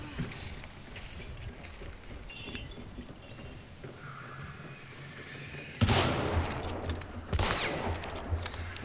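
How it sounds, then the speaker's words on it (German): Gunfire in the multiplayer video game Hunt: Showdown, a muffled low rumble of distant shots that turns into louder, sharper bursts near the end, with no talking. "Oh, ich werde beschossen."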